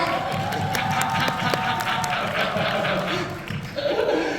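A crowd at a fan meeting claps and cheers steadily with scattered laughter, loud and close, while someone speaks over the noise.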